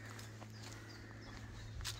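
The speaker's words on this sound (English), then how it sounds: "Some horses." Faint hoofbeats of horses clip-clopping in the distance on a countryside walk along the Cotswold Way in England, beneath a steady low hum, with a slightly louder patch near the end; recorded on a phone.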